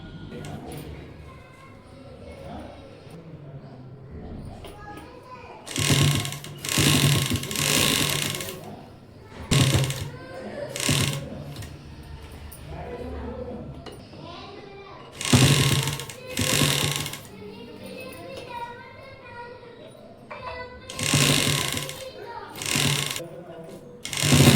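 A sewing machine stitches a kulla cap in several loud, rapid mechanical bursts of a few seconds each, with a voice talking in the quieter gaps between runs.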